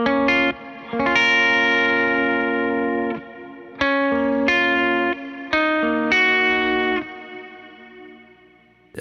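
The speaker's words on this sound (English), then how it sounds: "it's compressing the reverb, but it's gaining it up a lot" An electric guitar runs through Meris reverb pedals, its reverb compressed at an aggressive 6:1 ratio with extra gain. Several sustained chords bloom and swell into long, lush tails, each new strum cutting in before the wash fades.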